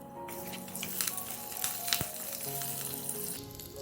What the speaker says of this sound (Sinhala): තෙල් රත් වෙනකොට අබ ටික දානවා. කරපිංචා, කුරුඳු පොතු,